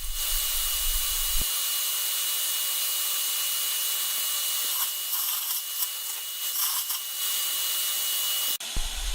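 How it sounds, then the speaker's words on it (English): A wire brush spinning on a power drill scours out a drilled hole ready for epoxy: a steady whirring motor hum with harsh, gritty scraping that grows rougher midway, close and alone, ending with an abrupt stop. "I stick the wire brush on a power drill and continue brushing the hole until it's nice and clean."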